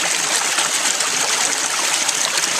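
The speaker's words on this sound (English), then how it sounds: "that's where that extra water is shooting up out of there, out of that first tee" Water forced up out of a plumbing tee on a home sluice pump setup, a loud constant rushing hiss and splash, close and unbroken.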